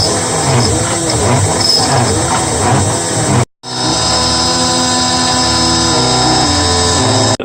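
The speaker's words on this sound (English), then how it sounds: "I'm going to now start cutting the underside of the carburettor part" A milling machine cuts an aluminium carburettor slide cover with a loud, steady grinding whine and pulsing chatter; the cut stops abruptly mid-way and restarts at a steadier tone, with no talk.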